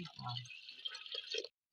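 Water poured into a small pan while cooking a jackfruit-flower and black tuvar dal curry: a short splashing pour lasting about a second and a half, with a voice briefly heard at the start.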